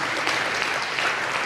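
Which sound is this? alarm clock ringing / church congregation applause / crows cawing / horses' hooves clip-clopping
church congregation applause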